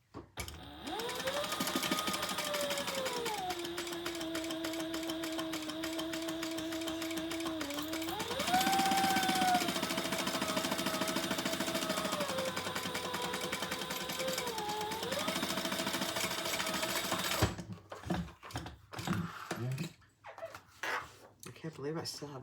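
A sewing machine bastes a leather sling, a steady mechanical whirring hum that rises in pitch briefly, runs for about seventeen seconds, then stops with some clicks and someone talking.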